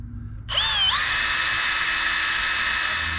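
A power drill with a screwdriver tip whirs up to full speed and holds a steady high whine while boring a hole in a teardrop camper for rock light installation, loud and close, alone without speech.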